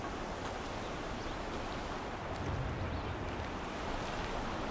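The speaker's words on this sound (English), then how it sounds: "Yeah, this water is gonna be noisy." Flowing water in Horizon Zero Dawn, a continuous broad rushing wash that stays steady and dense throughout, with no talk over it.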